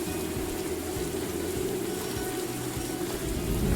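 Steady rain pouring in the mushroom-hunting video game Morels: The Hunt 2, a dense unbroken hiss of falling water that holds at an even level throughout, with no voices.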